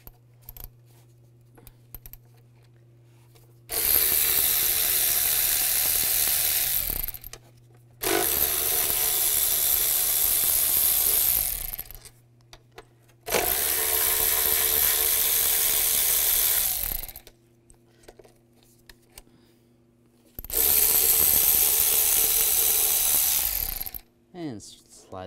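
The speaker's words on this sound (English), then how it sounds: "Using a 10mm socket, take all these bolts out." A ratchet fitted with a 10mm socket clicks in four long, steady bursts, separated by pauses, while removing the throttle body bolts on a 2005-2010 Chevrolet Cobalt; loud and close.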